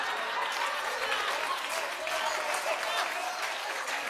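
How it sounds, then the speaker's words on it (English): A studio audience of women claps steadily and loudly on a talk show, a dense continuous wash of applause with no breaks. "Don't start that clapping, ladies."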